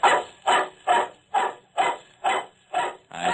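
A dog named Brownie in an old-time radio detective drama gives eight evenly spaced barks or yips, close and clear, in a steady rhythm, with no voices over them.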